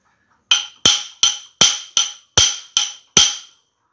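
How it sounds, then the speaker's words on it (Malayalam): Eight sharp metallic hammer taps on a Royal Enfield Bullet 350 front fork, struck at a steady, slightly uneven rhythm, each hit ringing briefly and decaying, close and loud with no talk. "ഇതിൽ ഇളക്കുന്നതിന് മുമ്പ് ഇതിൽ 2 തട്ട് തട്ടാം."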